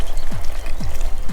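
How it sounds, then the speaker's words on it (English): Boiling water is poured into a one-pot curry with potatoes and stock cubes, cooked in a van, giving a steady close splashing gush. "and then just pour the boiling water straight in,"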